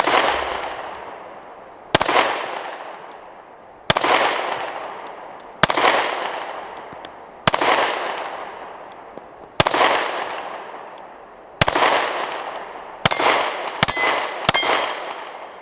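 A Ruger Max 9 pocket-sized concealed carry pistol fires at bowling pins outdoors, about ten sharp loud shots with ringing decay, spaced roughly two seconds apart before a quicker burst of four at the end.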